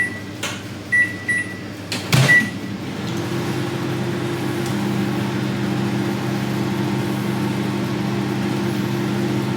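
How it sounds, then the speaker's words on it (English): A microwave oven hums steadily at close range after a few short beeps and a door clunk, the drone continuing alone and unbroken to the end. "I usually microwave for something like 4 to 5 minutes."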